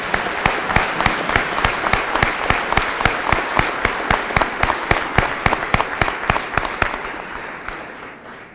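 A graduation audience claps for graduating students, a steady ripple of loud applause with sharp individual claps standing out, lasting several seconds before slowly fading at the end.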